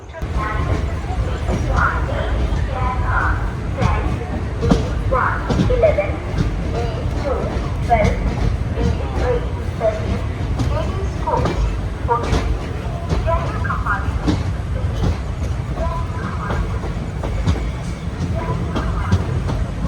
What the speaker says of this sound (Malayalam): ഇത് എറണാകുളം കണ്ണൂർ ഇൻ്റർസിറ്റി